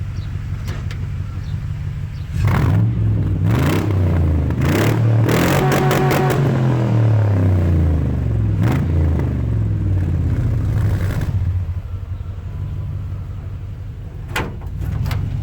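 The engine of a 1948 Mercury car revs up loudly close by, with its pitch rising and falling across several seconds of throttle before it settles back to a rumbling idle, with no talk.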